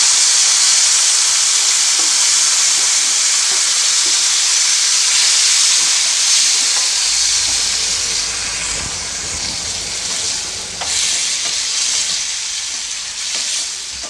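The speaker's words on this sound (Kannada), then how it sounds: "ಅನಾನಸನ್ನು ಹಾಕಿದ ಮೇಲೆ ಎಣ್ಣೆಯಲ್ಲಿ ಚೆನ್ನಾಗಿ ಫ್ರೈ ಮಾಡ್ಕೊಳ್ಳಿ" Pineapple pieces frying in oil in a pan, a loud continuous hissing sizzle close up that eases slightly in the second half, with occasional stirring clicks.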